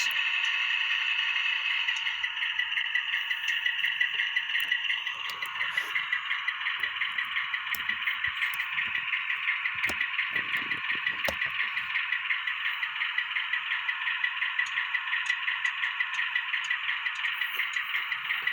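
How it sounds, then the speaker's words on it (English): A car engine running steadily up close, with a constant droning rattle and occasional scrapes and clatters over it, unbroken and fairly loud with no speech. "If you can hear me over the engine."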